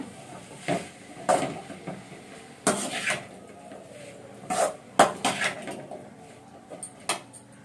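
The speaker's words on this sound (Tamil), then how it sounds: "உருளைக்கிழங்கு போட்டு இந்த மாதிரி நல்லா கிளறிடுங்க" Potatoes for a potato poriyal stir-fry are stirred in a metal cooking pan. A utensil clanks and scrapes against the pan in irregular bursts, with quieter gaps between the strokes and no talking.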